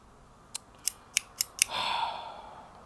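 A cutter snips the end of a cigar: five sharp, quick clicks close up, then a short soft rustling hiss as it finishes.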